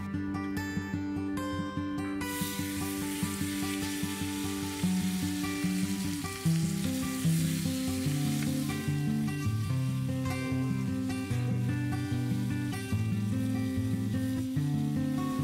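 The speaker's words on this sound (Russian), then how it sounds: "наливаем растительного масла и выкладываем мясо и лук." Meat and onion fried in vegetable oil on a heated street grill made from two tractor discs, a soft continuous sizzle under loud background music playing throughout.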